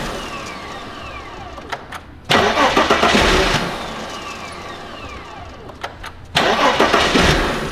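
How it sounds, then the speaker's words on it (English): The starter cranks a long-abandoned Mercedes S 500 that has just been given fresh gas. Two loud, grinding cranking bursts come close up, each lasting a few seconds, with a pause between them, and the engine does not catch. "We're gonna put fresh gas in and give it a turn and hopefully get to start."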